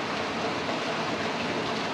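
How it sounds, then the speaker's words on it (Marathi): Heavy monsoon rain pours steadily in Maharashtra, a dense, even hiss at close range with no gaps or voices over it. "पाऊस पडायला लागला."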